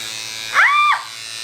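A JuvaLips lip plumping device's suction motor whirs to life, a brief buzzing hum that rises sharply, holds steady for under half a second, then cuts back to a faint background drone; no speech.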